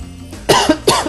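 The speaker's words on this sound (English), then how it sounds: "Excuse my coughing, ladies and gentlemen." Three quick, harsh coughs follow one another closely, loud and near, with a short pause before the last one.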